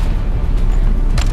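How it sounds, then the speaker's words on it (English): An artillery barrage in the video game Delta Force Hawk Ops booms as a deep, heavy, sustained rumble that stays loud throughout, with a brighter blast cracking near the end and no talking. "Artillery cover coming."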